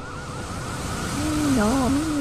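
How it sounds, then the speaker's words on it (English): A wavering fire engine siren from the video game Watch Dogs 2 rises in over steady game noise, its wailing tone swelling and dipping near the end of the short stretch. "Wait, that's a fire engine."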